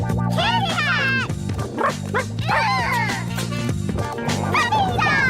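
High-pitched yips and short barks from a small dog, repeated in quick bursts over a low droning background, with some voices mixed in.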